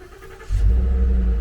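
A truck with a trailer hitched behind it pulls forward, its engine rising to a steady low rumble after a brief quieter moment, close and fairly loud, with no one talking.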